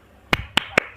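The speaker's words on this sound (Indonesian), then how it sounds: "Tepuk tangan dulu lah." Four sharp, close hand claps ring out in an uneven rhythm, each crisp and loud against a quiet background.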